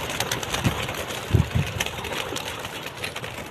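Racing pigeons are released at the start of a 239 km race from Butuan to Cotabato, with a few soft coos and low fluttering over a constant background hiss.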